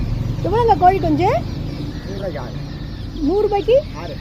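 Baby chicks for sale at a market give short, sharp cheeps in quick bursts, close by and loud, with pauses between the clusters.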